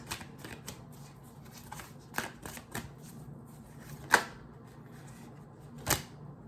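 Tarot cards handled and shuffled during a reading, heard as soft riffling and flicking with a few sharper card snaps and taps, fairly close and without speech.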